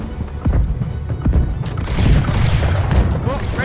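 Ship cannons firing during a naval battle in the video game Blackwake, a loud close rumble of repeated booms and blasts piling into a dense volley, with crackling impacts and voices shouting over the barrage.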